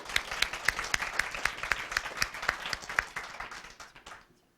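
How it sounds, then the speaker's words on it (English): A spelling bee audience in the Poudre School District gives a contestant a round of applause, a sparse, crisp spatter of individual claps with distinct rhythmic hits that thins out and stops abruptly near the end. "Give them a round of applause."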